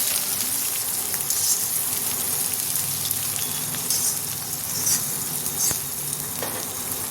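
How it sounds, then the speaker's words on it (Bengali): Sliced onions and bay leaves fry in hot oil for an aloo biryani, giving a steady, dense sizzle with occasional stirring scrapes throughout, close and continuous with no talk. "ভালো করে ভাজবো, মানে লাল করবো না, ভাজবো একটু।"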